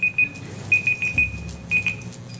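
Speaking-time limit timer at a city commission meeting in Boynton Beach, sounding as a series of short, bright electronic beeps in irregular bursts over a quiet room murmur, with no talk during the alarm.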